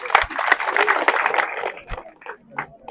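An audience applauds at a nationwide education tour event, a dense burst of clapping for about a second and a half that thins out into scattered claps and murmurs.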